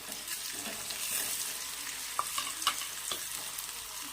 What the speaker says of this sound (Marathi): लसणाला आणि कांद्याला पण छान असं परतून घ्यायचं आहे